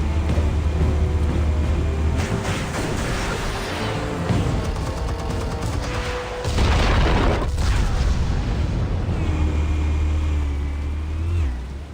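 Explosives detonating in Batman: The Telltale Series, heavy booms and crashing bursts over a low engine-like drone, with a big loud blast around six and a half seconds and rumbling debris afterward.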